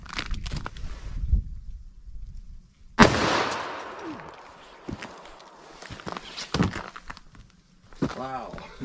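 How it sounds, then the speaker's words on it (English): A .357 Magnum revolver firing hard cast dangerous-animal loads into ballistics gel: one sharp, loud shot cracks out at close range with a short echo, followed by quieter handling sounds and a voice talking. "So let's see what we get here with our 357 Magnum"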